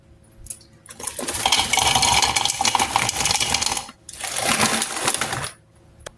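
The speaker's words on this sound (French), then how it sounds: "J'ai des fruits rouges comme ça, donc je vais en verser un peu dans mon mixeur" Red berries pour into a blender jar in two long, rattling bursts of dense, close clatter, split by a short pause, with no talk.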